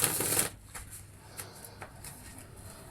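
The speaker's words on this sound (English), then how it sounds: "Let's give these cards a shuffle." A deck of tarot cards is shuffled in a short riffle burst at the start, followed by soft, scattered card flicks and taps at a quiet level.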